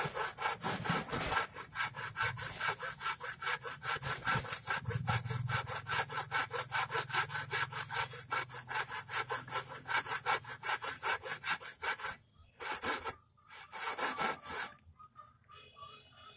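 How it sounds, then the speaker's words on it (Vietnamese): A handsaw cuts through wood while a wooden sword is being made, rasping in a fast, steady back-and-forth rhythm close up, then breaking off into a few short final strokes. "Chúng ta sẽ cưa vào một tí đây."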